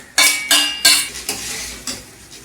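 A metal spatula stirring Nepali chowmein with spices in a pan: a series of sharp scraping clanks, fast at first and then spaced out, loud and close, with no voices.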